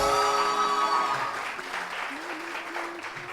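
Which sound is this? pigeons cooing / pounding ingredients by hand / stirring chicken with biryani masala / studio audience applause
studio audience applause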